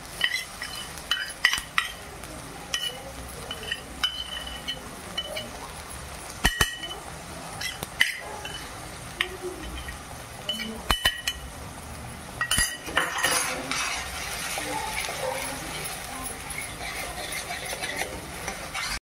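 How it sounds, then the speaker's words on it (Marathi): Onion-tomato masala roasts in a kadhai as a metal spoon stirs it, giving scattered clinks and scrapes over a low sizzle, with a denser burst of frying noise toward the end; no one speaks. "अशा प्रकारे आपला मसाला भाजला गेला पाहिजे."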